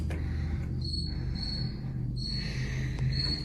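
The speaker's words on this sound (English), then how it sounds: "Is that a cricket?" Cricket chirping in steady high-pitched trills, pausing briefly between bursts, heard indoors at night over a constant low background hum, fairly close and clear, with no talking.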